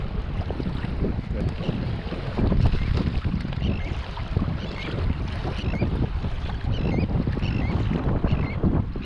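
Steady, gusting wind roars across the microphone outdoors while kayak fishing at the artificial harbour of Arromanches, Normandy, broadband and continuous, with a low rumble like open water beneath it.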